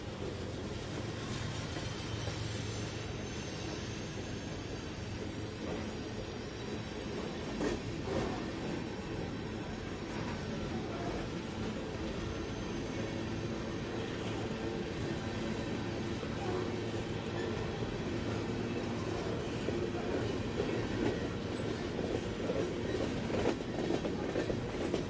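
A Union Pacific coal train with two covered hoppers at the end rolls past, a loud, steady rumble of wheels and rail clatter holding for the whole stretch with faint high squeal early on.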